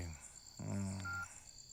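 Telephone keypad tones sound briefly as someone dials a phone number, a short electronic beep heard faintly amid a voice and background ambience.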